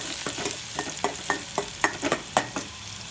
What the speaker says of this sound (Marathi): कांदा परतून लालसर होईल